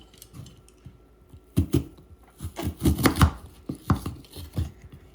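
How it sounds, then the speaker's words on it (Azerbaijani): A knife chops quince for pickle, producing a run of sharp, irregular thuds close by: a few light taps, then quicker clusters of firm cuts. "Bu formada bıçaqla doğrayıram ki,"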